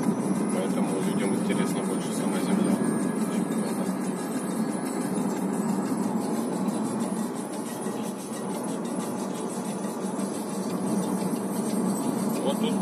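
A tram rolls along a city street with a steady, continuous rumble of wheels on rail that stays fairly loud for the whole stretch, while voices talk over it.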